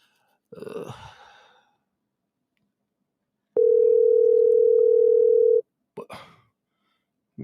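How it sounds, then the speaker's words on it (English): An outgoing telephone call rings once with a single steady two-second tone, loud and clear, between soft breaths and sighs in a quiet room. "All right, it's ringing."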